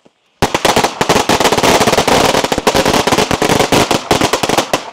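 A long string of firecrackers set off for Chinese New Year crackles in a loud, rapid, continuous burst of sharp pops after a brief quiet start, running to the end.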